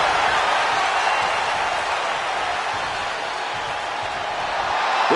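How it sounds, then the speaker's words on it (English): A capacity crowd in a WWE 2K26 wrestling arena roars steadily throughout, a dense, continuous wash of cheering with no clear breaks, heard loud and close. "This capacity crowd is sending him love, and he's sending it right back."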